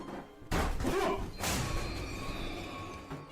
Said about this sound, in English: 2 knocks, both coming from this door